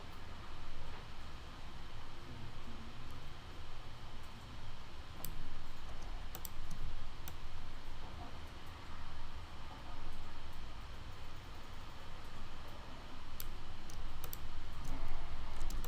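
Computer mouse clicks come faint and scattered, with a few sharp ticks spread over a steady low background hiss, and no voices.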